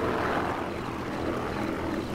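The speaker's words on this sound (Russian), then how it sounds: "Самолет за самолетом летает." Airplanes flying overhead in Sniper Elite 4, a broad steady droning roar of engines that holds constant and moderately loud throughout, without speech.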